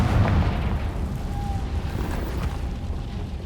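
A Confringo explosion spell in Hogwarts Legacy, a loud low boom at the start that rolls off into a rumbling decay with a faint tonal shimmer.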